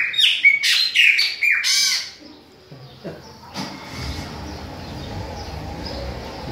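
A chopi blackbird (pássaro-preto) sings loud, bright, close whistled phrases for about two seconds, then falls quiet as a broad rumbling noise takes over.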